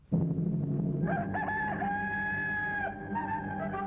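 A rooster crows loudly and alone, a long sustained cock-a-doodle-doo with a second rising call near the end, heard in an old wartime newsreel from the 1941–1945 American home front.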